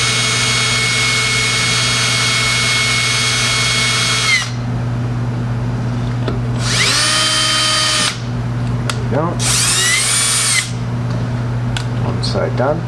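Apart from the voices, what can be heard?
drill drilling out rivets on dashboard switch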